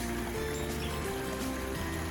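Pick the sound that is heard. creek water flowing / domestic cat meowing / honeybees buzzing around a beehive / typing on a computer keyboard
creek water flowing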